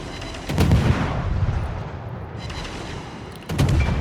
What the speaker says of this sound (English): so I can actually lob shells over that island